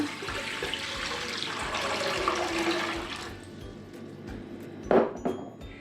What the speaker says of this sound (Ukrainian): Тому ось в кастрюлю наливаю 3 літра води.